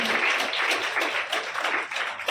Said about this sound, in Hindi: जोरदार तालियां मैं चाहूंगी इन सबके सम्मान में